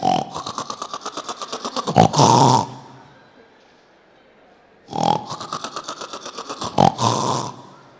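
A man imitates loud snoring with his voice, comparing it to a faulty generator: two long rattling, grunting bursts separated by a quiet pause, close and forceful.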